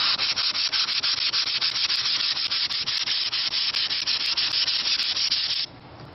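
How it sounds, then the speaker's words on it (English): 220-grit sandpaper lightly sanding cured epoxy on a kiteboard, a loud close scratchy rasp in quick steady back-and-forth strokes that continues without pause, then stops abruptly near the end. "I'm going to lightly sand it with some 220"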